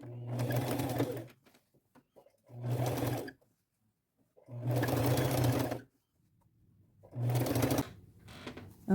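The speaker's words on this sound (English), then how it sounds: "So I will just do that, keep sewing every couple inches, do a little pleat, go all the way around." Sewing machine stitching pleats into a plain white shirt, running in four separate bursts of about a second each, with short pauses between, close and clear.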